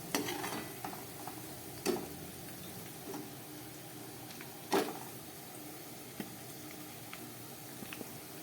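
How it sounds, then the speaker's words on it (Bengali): Sliced onions frying in a pan for Kolkata-style biryani, giving a soft continuous sizzle with occasional sharp clicks and knocks of stirring. "পেঁয়াজটা দেখুন অনেকটাই ভাজা হয়ে গেছে আর একটু ভাজা হলে আর একটু হালকা ব্রাউন হলেই আমি এটাকে নামিয়ে ফেলবো"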